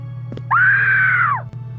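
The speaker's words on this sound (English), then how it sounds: "I came home, and I heard my wife screaming." A woman lets out a single loud, sustained scream lasting about a second over a steady low hum, rising sharply, holding, then trailing off.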